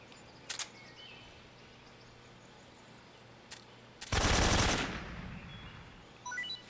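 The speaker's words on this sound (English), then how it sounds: "I think we can get that guy with our AK" AK rifle fire in Metal Gear Solid 3 set in a swamp: a couple of sharp single shots early, then a loud burst of rapid automatic fire that fades into ambient jungle noise and faint birdsong.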